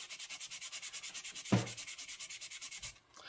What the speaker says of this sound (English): this is a little sanding block.